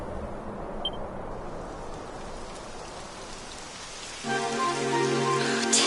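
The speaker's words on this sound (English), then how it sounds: "Typical. It would have to go and start raining, wouldn't it?" Rain begins in a PS4 video game, a soft steady patter that swells into a louder, fuller downpour with a tonal musical layer joining near the end, no voices.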